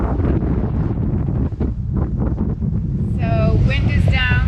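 Strong wind buffets the microphone aboard a sailing catamaran in about 16 to 17 knots, a loud continuous low rumble with gusty swells, and a voice is briefly heard near the end.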